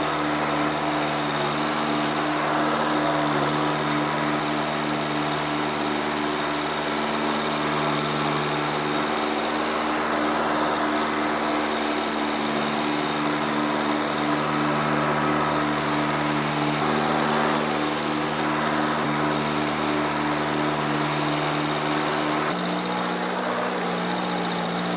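A tractor mower combo's small engine runs steadily at a barn, a constant high-pitched mechanical drone lasting throughout, with a brief shift in tone near the end and no talk.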